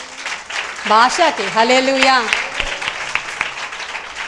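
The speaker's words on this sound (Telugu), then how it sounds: "ఒకసారి చప్పట్లు కొడదామా" A church congregation claps together. The applause swells as a spirited voice finishes speaking and then continues as a crackling patter on its own.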